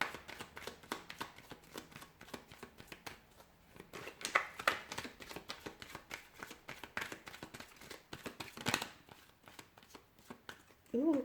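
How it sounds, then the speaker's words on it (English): A deck of tarot cards is shuffled close by in quick riffling bursts and soft slaps, repeated in an uneven rhythm with a faint voice now and then. "So we'll go ahead, give the cards a shuffle,"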